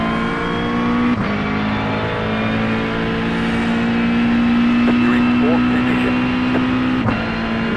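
A GT race car engine in a racing video game holds a steady high-pitched drone with shifts in pitch around gear changes, playing under continuous talk.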